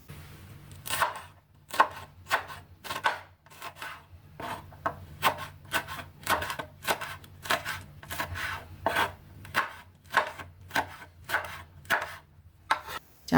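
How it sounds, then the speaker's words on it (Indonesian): A knife chops curly red chili peppers on a cutting board, giving a long series of close, crisp, fairly regular strikes with slight scraping between them; no talking. "Cabai sudah dipotong-potong"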